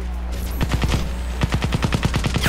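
Rapid automatic gunfire in the Xbox 360 game Crysis, loud bursts of evenly spaced shots in quick succession, with a short pause between two volleys.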